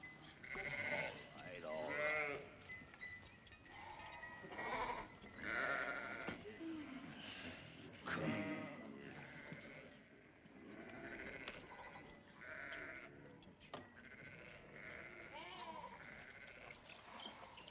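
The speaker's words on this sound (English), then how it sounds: "Drive back your goats until the sheep are watered." Several sheep and goats bleat repeatedly, overlapping calls from a small flock at moderate distance, with faint background noise.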